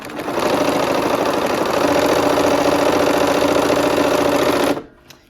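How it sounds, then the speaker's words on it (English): A sewing machine stitches quarter-inch seams on both sides of the line on a quilt block, running steadily and loudly up close for several seconds before stopping abruptly. "we are going to go ahead now and sew that 1/4 inch on both sides of the line"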